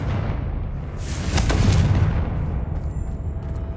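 A Confringo blasting spell in Hogwarts Legacy bursts into a deep booming explosion, rumbling heavily with a crackling flare in the middle, loud and close, then settling into a low roar.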